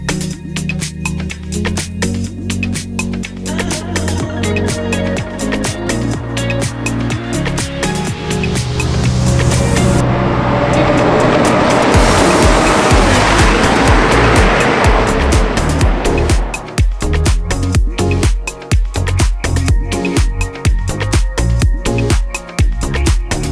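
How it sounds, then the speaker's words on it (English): A McLaren Senna 800hp hypercar is driven hard, its engine roaring loud and close with rapid gear changes, rising revs and a sustained full-throttle surge midway, with no talk. "let's jump in the McLaren Senna, see what this thing's all about"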